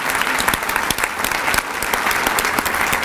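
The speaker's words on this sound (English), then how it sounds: "we'll give one more round of applause for our high school classified employees of the year" A school audience applauding high school classified employees at an employees of the year celebration, dense sustained clapping from many hands filling the room at a steady loud level.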